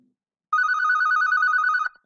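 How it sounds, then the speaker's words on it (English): A telephone bell rings in a single bright, rapidly trilling burst of about one and a half seconds, loud and close in an otherwise quiet room. "The phone's ringing."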